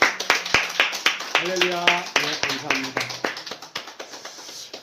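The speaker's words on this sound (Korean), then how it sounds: "하나님께 영광의" Church congregation clapping in praise during a Korean worship service, a brisk run of sharp hand claps through the whole stretch while someone speaks and sings over it.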